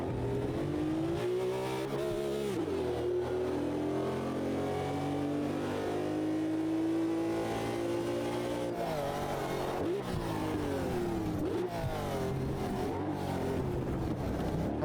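A 1971 race car in the Automobilista 2 racing game, version 1.6.8, revs hard, its engine note climbing and dropping through gear changes in a loud, continuous drone.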